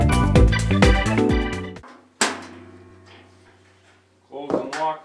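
A storage drawer slammed shut with a loud wooden thunk, followed by a metallic lock click and another clatter, close by, as someone speaks.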